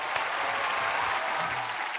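Steady, moderately loud applause from a studio audience at a Korean sketch comedy show, a continuous even patter of many hands clapping throughout, with little else over it.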